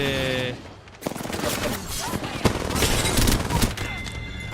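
Rapid SMG gunfire in the video game Apex Legends during a competitive scrim, dense bursts of shots with booming impacts running through most of the moment, while game tones sound at the start and end.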